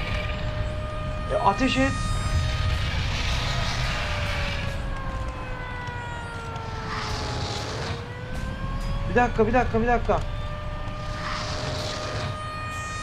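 Sirens and helicopters pass in the Black Mesa video game, with sweeping tones rising and falling over a steady low rumble and brief alarm-like pulses. Someone talks over the sound.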